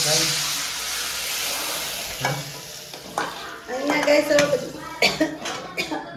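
Dal tempering sizzles in a pan at a steady broadband hiss, overtaken midway by clinks and scrapes of a utensil against the pot and brief voices nearby.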